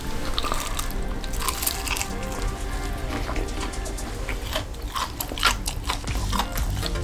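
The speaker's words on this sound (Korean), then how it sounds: "BBQ 신메뉴 눈맞은 닭 제가 한번 먹어볼게요" Crispy BBQ soy sauce fried chicken wings and drumettes being bitten and chewed up close, with loud continuous crunching and juicy mastication throughout and no talking.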